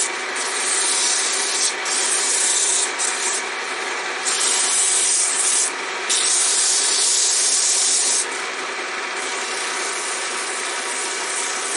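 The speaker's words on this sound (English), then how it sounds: "we're going to sand it out. Give it a little more speed." Sandpaper is held against a turned wooden peg spinning on a lathe, making a continuous loud hissing rub over a steady motor whir, with brief shifts in intensity as the pressure changes.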